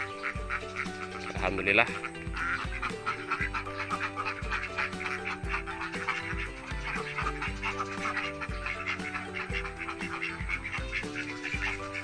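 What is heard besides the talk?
laying ducks quacking on an Indonesian farm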